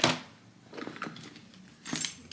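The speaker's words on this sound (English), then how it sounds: "Keys." Keys jangle inside a work bag in short metallic bursts, with a sharp rattle at the start, lighter clinks in the middle and another bright shake near the end, close and fairly loud.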